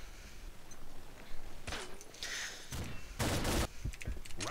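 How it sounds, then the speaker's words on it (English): Video game gunfire from a FAMAS G2 rifle and an M249 Para machine gun: several short bursts of shots at moderate distance, with one longer sustained burst near the end. "it's so weird listening to the new gun sounds"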